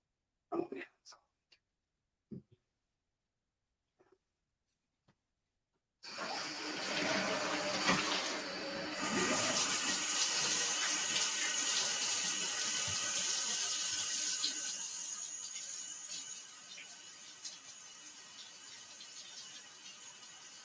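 A tap runs strongly while tie-dyed fabric is rinsed, a close steady hiss of flowing water that starts abruptly after a few quiet seconds of faint handling noises and whispering.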